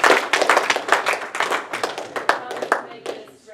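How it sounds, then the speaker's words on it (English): An audience applauds a PhD with brisk, close clapping for a few seconds, tapering off toward the end. "How about another round of applause for that PhD?"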